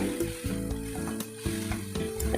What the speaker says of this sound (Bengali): এবার ভালোভাবে আলু পেঁয়াজটা ভালোভাবে নাড়িচাড়ি ব্রাউন করে ভেজে নিতে হবে